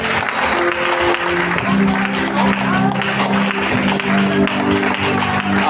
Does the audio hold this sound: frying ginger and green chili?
no